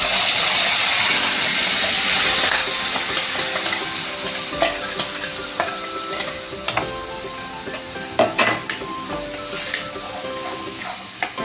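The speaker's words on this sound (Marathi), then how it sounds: "चांगलं त्याच्यामध्ये तेलामध्ये छान आपण फ्राय करून घेऊया मसाल्याला" Ground masala with turmeric fries in hot oil, giving a loud steady sizzle that fades after a few seconds into softer frying and sharp clinks of a spoon stirring the pan.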